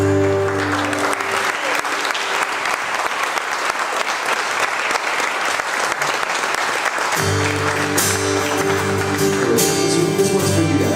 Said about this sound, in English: I wish you guys would stand up and take some applause